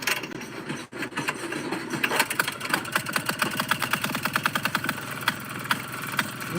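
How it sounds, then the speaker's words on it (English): A running engine on a 1994 Marathon purrs with a steady, fast mechanical ticking and an even rhythmic pulse, close and alone without talk. "Listen to that engine purr."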